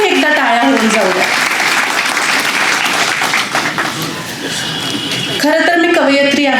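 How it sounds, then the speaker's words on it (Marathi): A lecture audience breaks into loud, sustained applause, dense clapping that dips briefly in the middle and swells again toward the end, with a voice speaking over it at the start and close. "म्हणून तुमच्या सर्वांसाठी एकदा टाळ्या होऊन जाऊ द्या"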